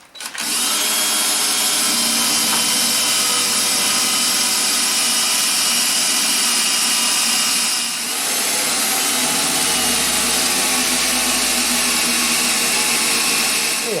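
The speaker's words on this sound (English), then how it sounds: "I'm going to drill 2 more holes." A drill bites steadily into a metal tractor step bracket held by temporary bolts, a loud, continuous grinding whine lasting many seconds with a brief dip partway through as a second hole is started.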